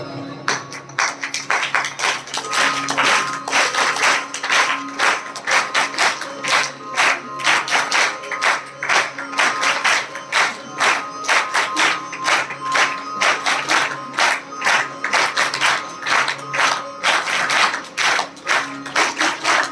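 Audience at a religious storytelling gathering in Mathura clapping hands together in a steady, rhythmic beat, loud and continuous for the whole stretch, with crowd voices rising faintly underneath.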